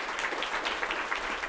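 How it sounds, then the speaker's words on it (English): An audience gives a short burst of steady clapping for presenters at a community pitch event. It sounds dense and even, with no voices over it. "How about one more round of applause for both of our presenters today?"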